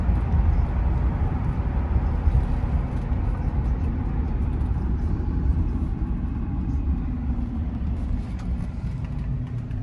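A Mercedes-Benz 380 SEC cruising on the road, its steady low engine and tyre rumble droning evenly with no breaks, heard from inside the car.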